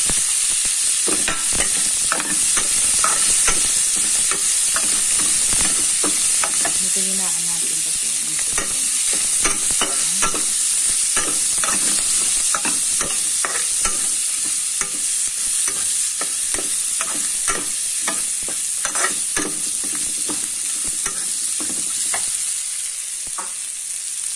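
Vegetables and prawns stir-fried in a pan for fried rice, with a loud, continuous close-up sizzle running throughout and regular scraping strokes of the utensil against the pan, no voices.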